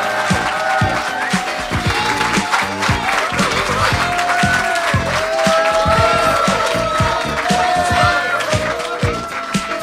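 A crowd greets a guitarist with loud, sustained applause and cheering at an event in France, with voices and music-like tones mixed in.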